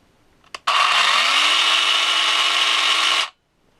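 A PARKSIDE 20V cordless pruning saw, model PAGHS 20-Li A1, clicks once, then spins up with a rising whine and runs at a steady high buzz for about two and a half seconds before cutting off sharply.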